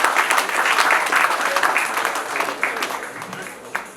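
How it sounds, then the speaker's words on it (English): A crowd claps hands in sustained applause at a foundation day celebration, steady and fairly loud before gradually thinning toward the end. "generous in clapping our hands"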